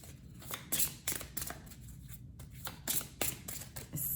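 Tarot cards riffled and shuffled by hand for a card reading, with quick close bursts of flicking and slapping in an uneven rhythm and no talk.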